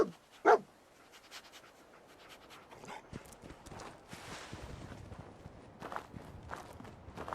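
A dog in Fallout 4 pants and pads about alongside footsteps. There is a sharp thump at the start, then a soft, steady shuffle of steps and breathing throughout.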